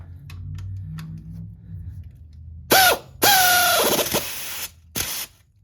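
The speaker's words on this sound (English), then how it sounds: "now I'm going to find it helpful to use air tools" Air tools loosen the serpentine belt tensioner on a 2009-2013 Toyota Corolla: two loud bursts of whirring with falling pitch, then a short final blast, preceded by quieter rattling and clicks.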